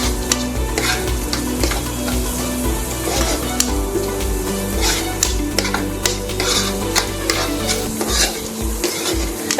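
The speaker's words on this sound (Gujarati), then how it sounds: "ઝીણી સમારેલી ડુંગળી છે એને એડ કરીશ ને એકદમ સરસ એને પણ આપણે મિક્સ કરી લેશું." Finely chopped onion is added to hot oil for tempering and stirred, giving a loud, steady sizzle with repeated scraping and clatter of the spoon against the pan, close and continuous, with no one talking.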